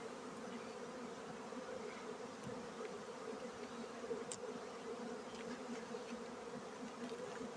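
Honeybees in a hive hum in a steady, dense drone during a winter inspection. The buzzing is quiet and continuous throughout, with faint handling noises now and then.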